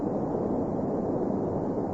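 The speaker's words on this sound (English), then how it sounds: "Sounds like a waterfall." A continuous, dense rushing roar of a waterfall in an old-time radio drama, steady and broadband with no pauses or voices.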